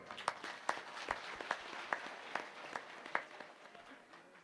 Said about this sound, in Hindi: इसलिए इस ड्रेस वालों के लिए तालियां बजा।